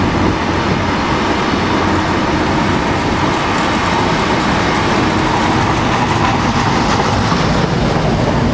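A train rolls past at Newport station with a loud, steady rumble and rushing wheel noise that holds unbroken for the whole stretch. The train is near the listener.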